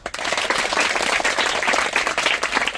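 Crowd applauding at an outdoor birthday celebration for a revived banyan tree in Satara, a steady dense wash of many hands clapping throughout, close and lively, with no talk over it.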